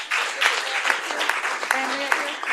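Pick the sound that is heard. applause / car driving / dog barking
applause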